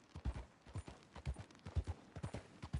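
Horse hooves clip-clopping at a walking gait in the Red Dead Redemption 2 video game, a steady series of close, soft thuds over a few seconds with no talk.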